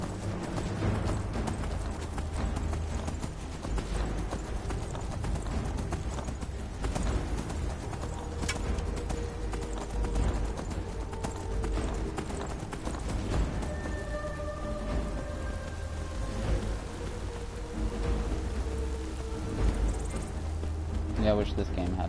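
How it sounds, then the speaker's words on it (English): A stolen horse gallops in the Skyrim video game, its hooves drumming in a continuous rapid rhythm under game sounds and talk. "Did you see that? I just stole a horse."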